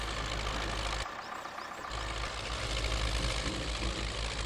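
An MTZ 82 tractor engine idling in the video game Spintires, a steady low diesel throb with a rough knocking pulse, close and constant, briefly dipping for a moment before resuming, with no voices.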